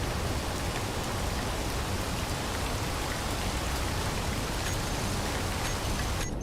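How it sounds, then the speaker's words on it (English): Steady rain in the video game Space Engineers, a dense, even hiss of falling drops that holds at a constant level and cuts off abruptly near the end, with no talking over it. "Really raining."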